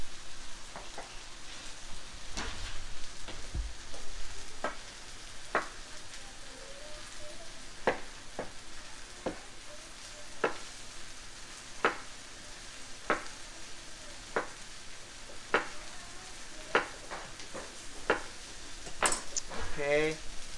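Eggplant pieces fry in a pan for Malaysian tamarind fish curry, a steady crackling sizzle punctuated by regular sharp clicks of stirring against the pan.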